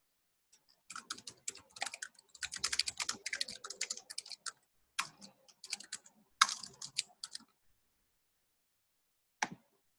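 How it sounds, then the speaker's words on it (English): Fingers type on a computer keyboard in quick irregular bursts of close, crisp key clicks, separated by short pauses and ending with one isolated tap after a longer silence. "you just go here to this right-hand side and type your translation"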